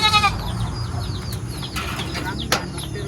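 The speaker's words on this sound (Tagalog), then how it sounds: "Yan kambing po pala mga kababayan ay kambing ni PB Team Ralph." A goat on a rural Philippine property near a road, heard alongside a loud opening bleat-like call, chirping birds, and scattered sharp knocks over a low background hum.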